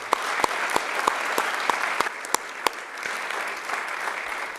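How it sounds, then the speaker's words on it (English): A crowd at an evening city board of mayor and aldermen meeting applauds award winners, with steady sustained clapping and a few sharp individual claps standing out near the start. "About one more round of applause for all of our winners this evening."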